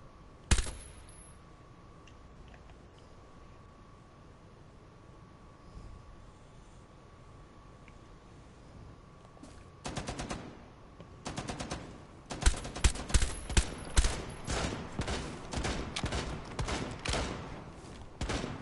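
Gunfire in Rainbow Six Siege: one early sharp shot, a long quiet stretch, then a brief burst followed by rapid, repeated automatic fire in clustered volleys growing louder and denser toward the end.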